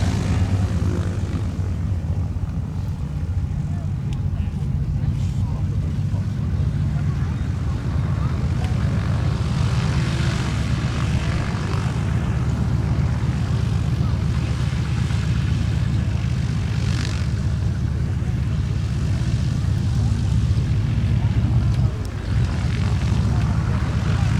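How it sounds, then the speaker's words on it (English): A Gamebird GB1 aerobatic propeller aircraft on a hard runway at an airshow, its engine giving a steady, loud droning roar that holds throughout, with faint talk underneath. "his Gamebird GB1, which should be rolling shortly on the hard runway"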